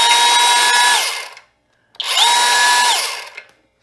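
An Ecarke 7-1/4-inch cordless brushless circular saw on a Makita-style 18V battery, fitted with a Makita-style blade, spins up and runs free twice, each high whine lasting about a second before winding down, loud and close with no talking.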